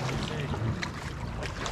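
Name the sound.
boatercycle engine test firing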